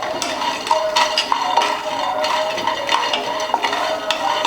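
Peanuts dry-roasting in a pan, stirred steadily with a spoon that scrapes and rattles them against the metal. A close, continuous gritty clatter with no talk.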